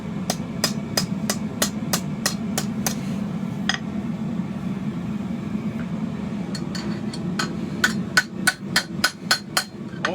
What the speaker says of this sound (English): we'll fix that by just hammering down